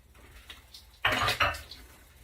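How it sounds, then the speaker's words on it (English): A spoon stirs Mexican albondigas soup with chipotle chilies in a metal pot, a faint scrape followed by a louder burst of clattering and scraping against the pot, alone and close. "so just stir it"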